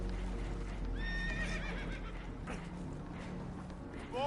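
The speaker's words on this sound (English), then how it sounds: "Horses are spooked, and we're taking on water." Spooked horses in Red Dead Redemption 2 give a sharp, loud whinny that rises and wavers over steady ambient rumble and water noise, with hoof clatter and a second shorter neigh near the end.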